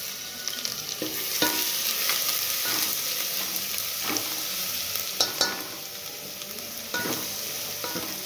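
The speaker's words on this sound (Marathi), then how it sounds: "त्याच्यामध्ये आपण हे अद्रक लसणाची पेस्ट अर्धी टाकून घ्यायची" Ginger-garlic paste crackles and sizzles in a hot pan, punctuated by sharp intermittent scrapes of a spoon stirring it, with no voices.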